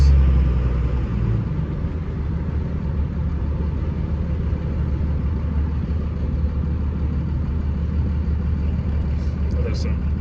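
A truck with a new solid axle front end cruises along a road, giving a steady low engine and road rumble throughout, close and even in level.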